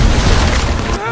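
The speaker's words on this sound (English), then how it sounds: "Explosions bloom as cover is shut." A loud, booming explosion from the Expend4bles action film fills the moment with a dense, rumbling blast that cuts off abruptly near the end, followed by a brief faint tonal tail.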